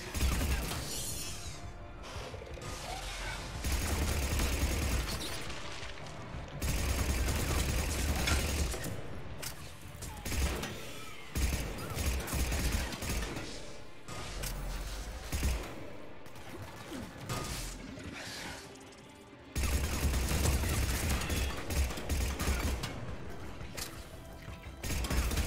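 Weapon fire during a Mass Effect 3 Legendary Edition firefight, with dense bursts of shots, impacts and crashes repeating throughout and loud low-end thumps, alone with no speech.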